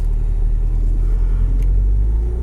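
A 2013 Audi TTS engine drones loud and close, a steady low rumble with slight swells as the paddles are used to shift; no voices.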